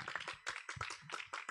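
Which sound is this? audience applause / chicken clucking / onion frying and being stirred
audience applause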